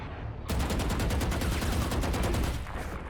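Rapid automatic gunfire in Valorant sprays through a wall, a loud, dense burst of evenly spaced shots lasting about two seconds after a brief quiet start, then cutting off.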